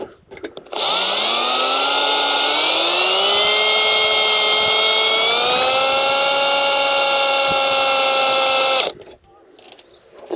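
A power drill grinds through a second rivet on a 19ft sailing boat's mast, a loud sustained whine that rises slightly in pitch as it bites, running about eight seconds before cutting off.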